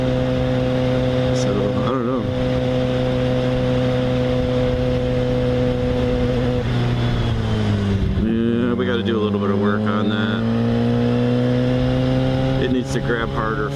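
Yamaha FZ6R motorcycle engine droning steadily while riding, a continuous loud hum with a brief dip in pitch around the middle as the revs shift, with wind noise and a voice talking over it.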